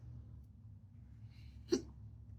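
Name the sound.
hiccup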